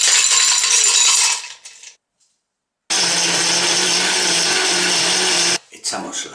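A blender grinds loudly, goes silent briefly, then roars again with a harsh rattling as ice is crushed into a banana piña colada drink, cutting off abruptly near the end.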